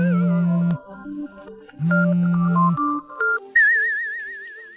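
A telephone rings with a bright electronic melody, in short bursts of tones separated by brief gaps, then shifts to a high warbling trill. It is clear and fairly loud, and no one talks over it.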